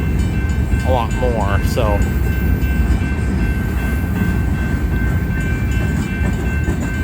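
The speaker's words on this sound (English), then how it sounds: "it looks like the train's now starting to pick up speed" UP 8860 leads an outbound manifest freight train near Baseline Road, its steady rumble and rolling noise continuous as it gathers speed, with a horn-like tonal whine and someone talking over it.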